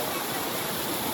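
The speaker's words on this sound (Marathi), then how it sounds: "आमच्या मागे एकदम धबधबा आहे भारी." Waterfall near Kondeshwar temple close to Pune, a steady broadband rush of falling water filling the short clip, loud and close, with voices faint beneath it.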